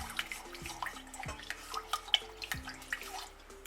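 A spoon stirs watermelon pudding mixture with sugar in a bowl, making soft, irregular liquid clinks and swishes close by, over faint background music.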